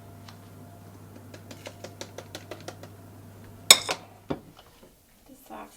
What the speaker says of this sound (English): So now I'm going to mix everything into here to make the marinade.